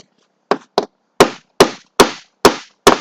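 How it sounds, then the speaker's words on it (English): A hammer strikes distillery equipment to knock off caked hard mud, seven sharp, loud metallic blows in a quick, slightly uneven rhythm, each ringing briefly before the next, close and alone. "I gotta hit this with a damn hammer to bust this off of here."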